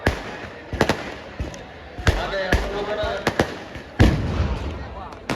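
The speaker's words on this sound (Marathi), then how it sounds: "शिवप्रेमींना विनंती आहे फटाक्या थोड्या वेळ थांबवल्या." Sharp firecracker bangs burst at irregular intervals, some close and loud, over a noisy crowd with people talking, at a Shiv Jayanti celebration in Parbhani.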